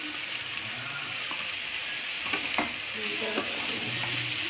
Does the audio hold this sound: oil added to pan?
yes